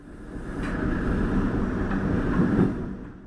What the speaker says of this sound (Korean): 지하철이 저희를 추월해서 가네요